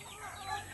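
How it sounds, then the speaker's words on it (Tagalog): Brief clucking call from a backyard-raised chicken, close and moderately loud against a steady noisy background. "Basta kay manok ni siya"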